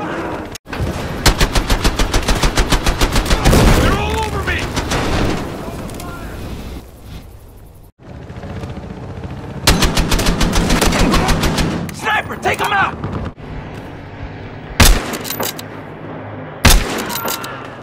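Battlefield Hardline gameplay with rapid automatic gunfire in long rattling bursts, heavy booming single shots and a few explosive cracks near the end, loud and close. Short pauses separate the volleys, and a voice speaks briefly.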